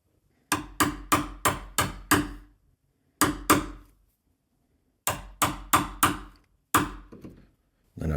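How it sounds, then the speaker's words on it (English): A hammer strikes a chisel into wood in quick groups of sharp, solid taps, about five at a time, with short pauses between groups. Close and clear. "I just got a chisel right here and a little hammer"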